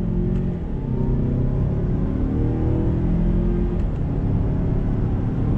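A 2021 Mazda CX-9 Carbon Edition with a six-speed automatic, in sport mode with manual shifting, accelerating with a steady, loud engine drone and rising tone, heard from inside with no talk.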